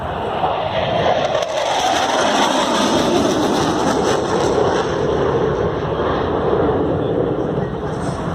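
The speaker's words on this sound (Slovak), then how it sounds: "Dva motory, k tomu štart na forsáži" Panavia Tornado twin-engine jet taking off on afterburner at an airshow, a loud continuous broadband roar that holds steady throughout without letting up.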